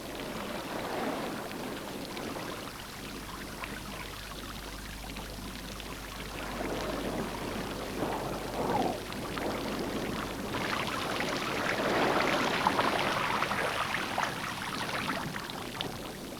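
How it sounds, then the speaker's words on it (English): Water gushes steadily from burst pipes on South Georgia island, a continuous broadband splashing rush that grows slightly louder and stays unbroken with no talk. "It's just that the pipes have burst."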